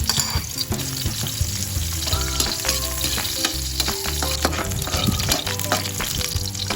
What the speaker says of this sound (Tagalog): Isabay ko ng igigisa itong bawang at sibuyas.